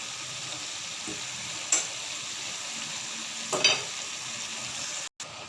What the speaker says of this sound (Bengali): দিয়ে দেব নারকেল কুচা, এখন একটু নেড়ে চেড়ে আবার 5 মিনিটের মতো রান্না করে নেব